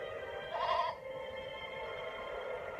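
A goat in the video game Eternal Sonata gives a single short, nasal bleat over a quiet, steady game background hum.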